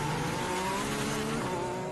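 A McLaren Formula 1 car, driven by Lando Norris in third practice at the 2021 Dutch Grand Prix, roars past with a steady, high engine whine that climbs slightly in pitch and fills the whole clip without pause.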